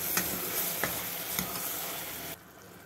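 Spoon stirring turmeric, coriander powder and chilli powder into softening tomatoes in a hot pan for a millet tomato bath, with a steady sizzle and a few sharp scraping clicks against the pan before the sound drops away.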